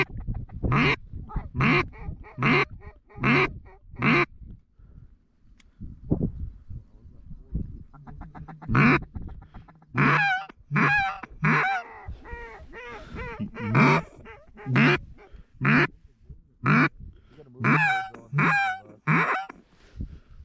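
Geese honking and ducks quacking in repeated bursts of calls over a plowed corn field, loud and fairly close, with short quiet gaps between flurries.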